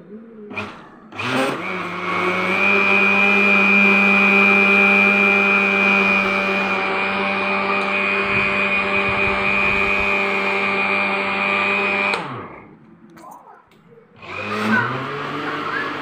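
An electric mixer grinder in a home kitchen starts in short bursts, then runs with a loud, steady, high whine for about ten seconds before cutting off, followed by another brief spin.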